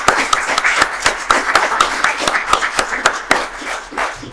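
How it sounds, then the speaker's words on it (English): Audience applause for award winners at an evening STEM educator awards ceremony, a dense, steady patter of many hands clapping throughout, close and moderately loud with no talk. "So a round of applause for all of the winners for this evening."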